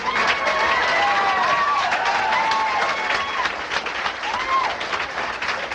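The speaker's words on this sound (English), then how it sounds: "Nice round of applause for Al Lubel." A studio audience at a comedy show breaks into sustained applause, dense clapping at full level for several seconds, with a voice speaking over it.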